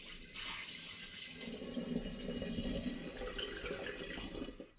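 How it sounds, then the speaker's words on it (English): Spirit being poured back into a glass demijohn after distilling schnapps in an air still, a steady continuous trickle and gurgle of liquid, close and fairly loud, running throughout with no talk. "So I'm going to pour that back into the demijohn now."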